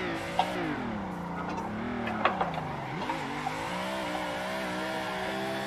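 A racing car in a drifting simulator game runs at full throttle, its engine droning steadily with sweeping pitch rises and dips, with brief tire squeal bursts mixed in, loud and close throughout.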